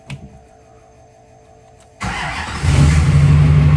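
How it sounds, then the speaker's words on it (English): A car engine fires up after a wiring harness repin: two seconds of near quiet, then the starter catches and the engine settles into a loud, steady close idle that swells slightly. "Now it's time to fire up because she should sound more normal now."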